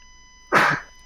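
A single short, sharp sneeze close by, a quick burst of breathy noise against a quiet background with a faint electrical hum.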